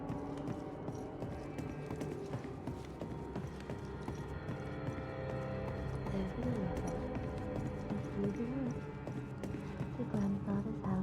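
Horse hooves clip-clop steadily through the whole stretch in the video game Banishers: Ghosts of New Eden, a horse pulling a sleigh along a road, the rhythmic steps mixed under music and ambient sound.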